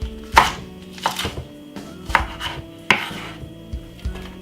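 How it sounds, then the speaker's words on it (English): A knife chopping a white onion into chunky pieces on a board, four distinct close thuds at uneven intervals with quieter knocks between them. "I'm gonna be cutting them really chunky, the white onion."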